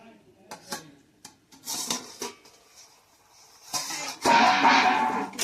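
Metal pot and lid clatter while covering a curry pot with its lid in a Bengali home kitchen, several sharp clinks and scrapes, then a louder rattle at the end, with a voice speaking between them.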